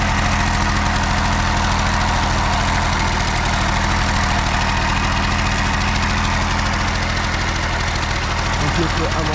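A 1968 Peugeot 102 MS moped engine idles fast with its choke stuck on, a loud steady buzzing putter running unbroken throughout.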